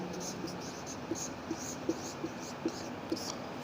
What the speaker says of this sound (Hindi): अब हम लिखेंगे टोटल फ़ीस